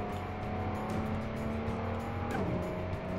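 A minivan engine in Car Mechanic Simulator 2018 drones loudly through its gears, a steady tonal whine with a brief pitch drop near the end as it shifts, with no talking.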